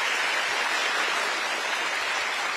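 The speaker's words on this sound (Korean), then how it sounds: "여러분 다시 한번 박수 부탁드립니다." Applause from an audience of newly appointed public officials at a lecture, a steady, dense crowd of hand claps continuing evenly throughout.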